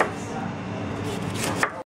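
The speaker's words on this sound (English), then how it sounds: "I'm gonna cut this red cabbage in just in slices" A knife cuts thin slices through a red cabbage on a board, giving a steady crisp crunching rasp that ends with a sharp final cut.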